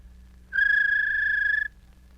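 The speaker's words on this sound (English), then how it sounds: "Perhaps the most difficult of all is the palate whistle." A human palate whistle, a soft-palate flutter combined with an intake whistle, gives a sustained clear tone with a faint rapid wavering, held for about a second, loud and close with no talk.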